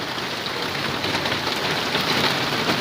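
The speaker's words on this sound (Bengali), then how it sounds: "খুব বৃষ্টি" Heavy rain pours steadily over a flooded road in Noakhali, a loud, dense, unbroken hiss of drops striking water and surfaces, close and constant throughout with no voices.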